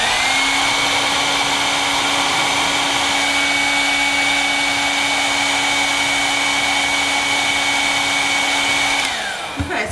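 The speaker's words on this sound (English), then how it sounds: "One is the super cheap standard hair dryer, and this is a fancy low EMF one that was about double or triple the price." A cheap standard hair dryer blows continuously at close range, a loud steady whooshing roar with a constant motor whine that holds for nearly ten seconds before it is switched off and spins down.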